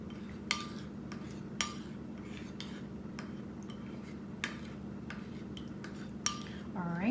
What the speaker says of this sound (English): we'll just mix that around until it's mostly combined